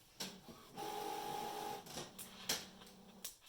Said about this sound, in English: My printer talking to me.